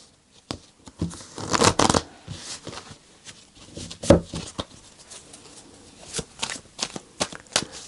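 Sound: tarot cards being shuffled and pulled from the deck

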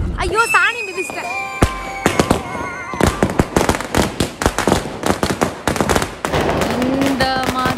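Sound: Diwali firecrackers bursting

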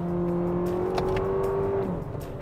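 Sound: 2024 Lexus TX engine accelerating through gears

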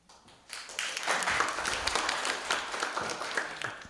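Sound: audience applauding panel introduction

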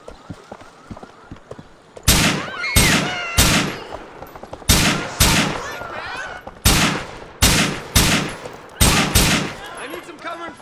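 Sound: gunfire in the video game Grand Theft Auto IV

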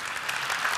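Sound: audience applause for the speaker

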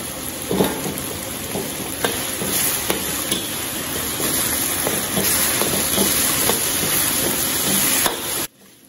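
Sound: stir-frying chili bean paste and hotpot base in oil

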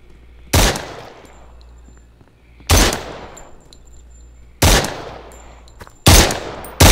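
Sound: gunfire with explosive ammo in the video game SURV1V3

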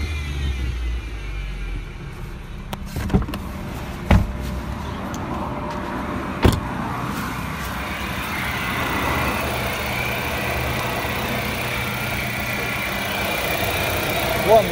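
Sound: car engine idling

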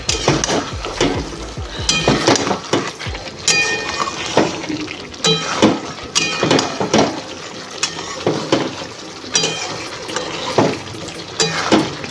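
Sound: sautéing spiced masala with tomato in pan

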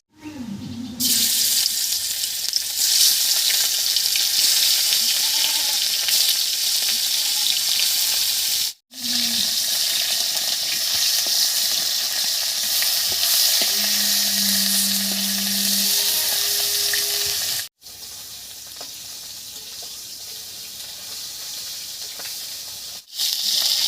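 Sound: khoira fish frying in hot oil

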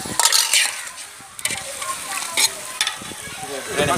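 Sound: stirring chicken biryani masala in pot

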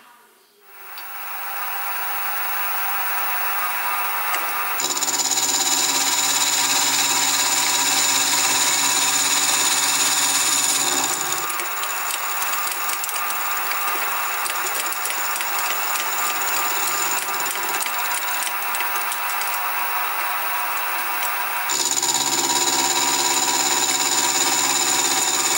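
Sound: milling machine milling a steam engine valve chest part

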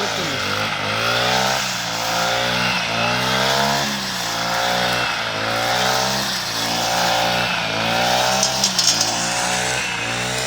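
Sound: vehicle driving fast

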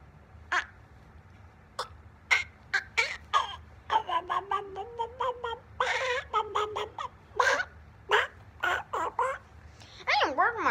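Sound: voice imitating chicken clucking

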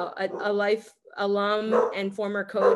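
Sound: dog barking

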